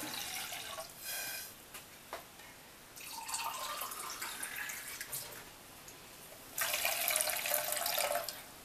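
Water runs from a tap in short bursts while measuring water for cooking rice into a sweet rice pudding, with louder pouring near the end and no talking.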